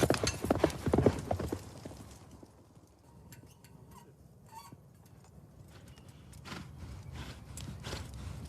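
Horses at a yabusame mounted archery event on a long track, heard as a few close hoof clip-clops early on that fade into quieter, distant footfalls over outdoor ambience.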